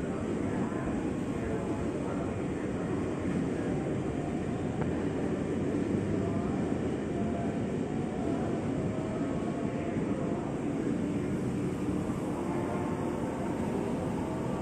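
A service locomotive rolls through the station on track 7, a steady broad rumble of engine and wheels holding loud and continuous, with people talking over it.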